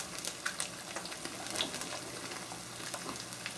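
Eggs frying in a pan before being turned over easy, a quiet continuous sizzle with scattered crackles and pops, close and undisturbed by talk.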